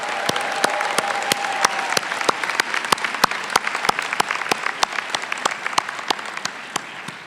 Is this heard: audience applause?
yes